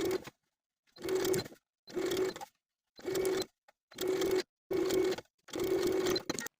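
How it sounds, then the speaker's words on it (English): Domestic sewing machine running in seven short bursts while understitching a garment facing to its seam allowance, each a steady whirring hum with brief quiet gaps between, close and clear. "stitch the facing to the seam allowance about 1/8 inch away from the original stitching line all the way"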